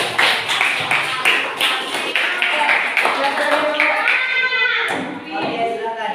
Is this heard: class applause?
yes